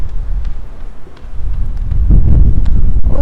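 Wind gusts buffet the microphone on a London street in the early morning, a steady low rumble that swells louder toward the end, with no talk over it.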